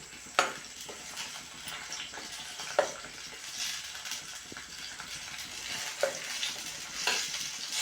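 Masala tomato chutney with green chillies, garlic and ginger fries in a pan as it is stirred and mixed. Soft sizzling runs under close scraping and occasional clinks of the spoon, with no talking.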